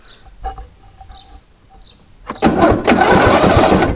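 A ride-on lawn mower's engine cranks and catches, then runs loud and steady, after a quiet stretch where birds chirp in the background.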